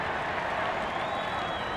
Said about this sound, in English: Mightn't be a big crowd, but they're getting plenty of encouragement now.